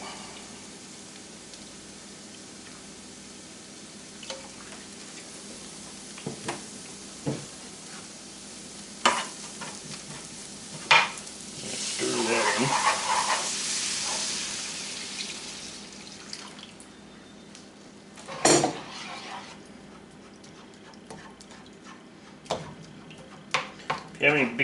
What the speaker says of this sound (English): just want to stir that in until you no longer see any white of the flour